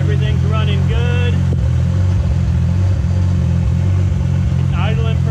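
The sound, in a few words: Toyota Supra engine idling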